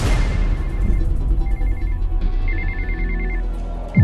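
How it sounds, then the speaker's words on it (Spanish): A mobile phone rings in a warbling, repeated electronic pattern over a dramatic trailer backdrop with low booms and a heavy impact at the end. "Así es que sonó el celular"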